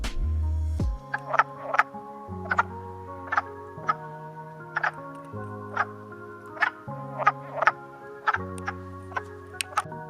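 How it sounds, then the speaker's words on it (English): Wood frogs give low, hollow, quack-like croaking notes that repeat steadily, with sharp clicking calls popping over them at irregular intervals; no voices. "They also have a quack-like call, which I will play for you now."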